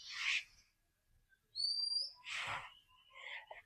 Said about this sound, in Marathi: बघा पाठीमागे पण पक्षी ओरडतोय.